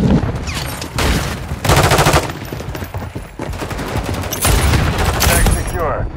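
Loud bursts of automatic gunfire in the video game Modern Warfare 3 come in rapid repeated volleys, with voices heard over the shooting.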